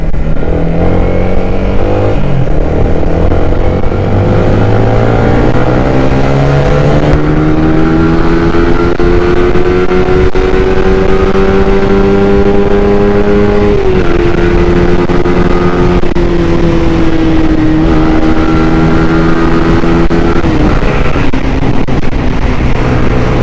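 A Yamaha Sniper 155 motorcycle accelerates along a road with a loud, close engine drone that climbs in pitch through each gear, dips briefly at several shifts and pulls upward again, with no talking.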